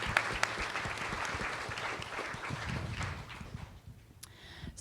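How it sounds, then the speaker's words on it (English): Audience at a floating wind conference panel applauding in a steady wash of clapping that holds for several seconds, then thins out and fades, with a few scattered claps at the end. "Please give a round of applause to everyone working behind the scenes today to make this all happen."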